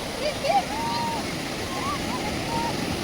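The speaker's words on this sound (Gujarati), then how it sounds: "જો મોજા આયા જો આયા એ આયા" Sea waves break and wash onto the shore near Somnath, a steady, broad rush of surf with wind, while people talk and call out over it.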